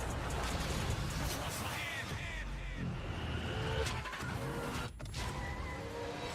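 Cars skidding and roaring through a loud, dense video game trailer mix for Forza, tire screeches and engine whooshes under continuous music and effects.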